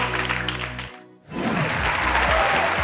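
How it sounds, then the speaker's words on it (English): An audience at the Cowbellpedia 2023 TV quiz show claps for the contestants in two bursts, a brief lull dividing the steady applause. "Clap for them, please."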